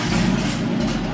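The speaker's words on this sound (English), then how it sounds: "we have no exhaust and it just ends at the headers, and we're just gonna start it for a split second" A Nissan 370Z with no exhaust fitted, open at the headers, runs in a brief, loud, raw burst of low rumbling engine noise, steady and close, with no voices.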